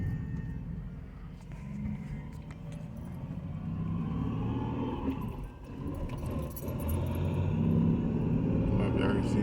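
A 2001-2007 Nissan Frontier pickup with a manual clutch drives along, its engine a steady close rumble that dips briefly midway as if during a gear change, then pulls again, with faint rattling and jingling in the cab.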